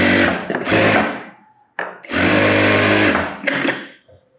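A sewing machine stitches a folded one-inch blouse hem in loud mechanical bursts, two long runs separated by short pauses and a brief final spurt, with no talking.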